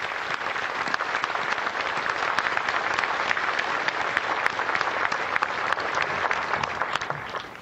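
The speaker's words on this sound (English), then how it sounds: "Let us offer them a round of applause for their eternal courage and sacrifice" A crowd at a Pearl Harbor Remembrance Day ceremony applauds the veterans, sustained even clapping with a few sharper individual claps standing out, held at a steady level throughout.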